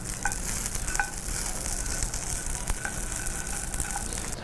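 Pumpkin gnocchi sizzles steadily as it browns in a hot frying pan, a continuous close crackle with a few light clinks from utensils.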